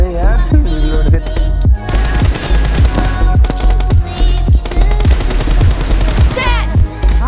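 Rapid bursts of M416 assault rifle fire in a mobile team deathmatch shooter game, loud, dense and repeated across the whole stretch, with game sounds layered over it.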